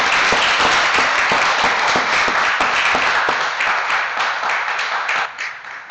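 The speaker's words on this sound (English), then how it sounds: "Let's give them a round of applause." Steady applause from a crowd at an honor society induction and awards ceremony, dense clapping filling the whole stretch and tapering slightly near the end.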